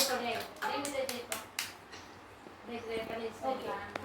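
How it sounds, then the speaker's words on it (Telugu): Children clap their hands in a classroom, several short bursts of applause scattered between spoken instructions. "క్లాప్స్ కొట్టండి అందరూ"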